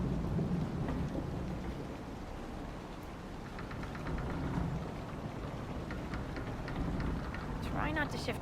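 Thunderstorm ambience in a video game, steady rain hiss with low rumbling thunder swelling and fading throughout, a few faint clicks near the end.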